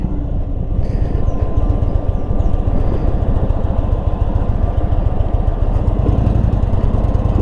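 A 2022 Indian Super Chief motorcycle pulls along the road with a loud, close, low engine rumble that throbs steadily throughout, wind noise layered on top and no voices.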